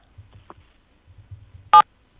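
A phone keypad tone sounds as a single short, loud beep when 7 is pressed during a call, standing out over faint low rumbling.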